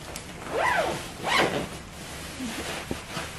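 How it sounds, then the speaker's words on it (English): Two quick zipper pulls on winter clothing in a cold snowy setting, close and distinct, followed by a few faint rustles and a small click, with no talking. "I can't even see my zipper."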